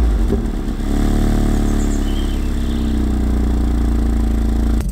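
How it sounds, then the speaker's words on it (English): A 600 bhp Volkswagen Golf R engine fires up and settles into a loud, close, steady rumbling idle, heard alone without any talking. "let's get the engine started first."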